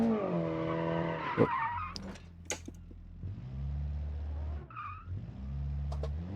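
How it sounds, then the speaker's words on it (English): In a racing video game, a car does burnouts, its engine droning low while tires squeal and skid in long, loud smears, with a short vocal exclamation near the end. "let's see if we can do some burnouts"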